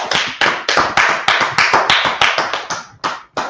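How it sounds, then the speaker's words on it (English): A class in Harlem, New York, gives a burst of hand claps. The claps are crisp and close, about a dozen in quick succession that thin out to a few last ones near the end, with no talking. "Clap it up for the class."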